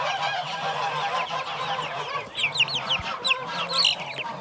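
Poultry flock including chicks and a young rooster, with a dense continuous chorus of high peeping and clucking and a few sharper squawks near the end, close by.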